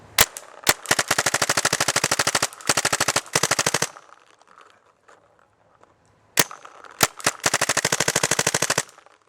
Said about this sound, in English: we're going to do a fully automatic mode, and he's just going to shoot a tree